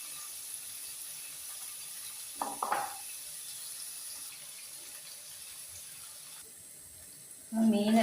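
Anchovies dropped into hot oil in a pan fry with a steady, even hiss throughout, a brief clatter midway and a louder knock near the end.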